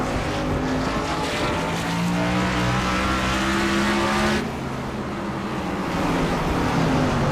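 Race cars in a Freedom Racing Series event at Nashville Fairgrounds Speedway roar past in a dense, loud pack, engines droning and shifting pitch continuously with a brief dip as the field passes.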